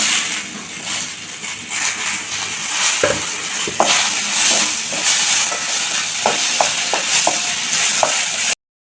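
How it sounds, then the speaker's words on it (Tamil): Onions and tomatoes sauté in a pan on the stove, frying with a steady loud sizzle and hiss broken by scraping stirs of a spoon, then cutting off abruptly; no talk. "இப்போ நம்ம தக்காளி சேர்த்து வணக்கிடலாம்"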